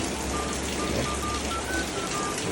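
Steady rain falling outside, a continuous even hiss with soft patter throughout, moderately loud and unbroken, with no voices present.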